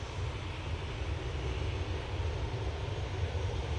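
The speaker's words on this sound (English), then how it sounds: "We have the Virgin Atlantic coming in from Atlanta using their A330-300 for this flight." A Virgin Atlantic A330-300 inbound from Atlanta on final approach gives a steady, distant low engine rumble with a broad hiss, continuous and unbroken, with no talk.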